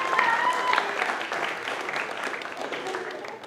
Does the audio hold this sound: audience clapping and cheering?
yes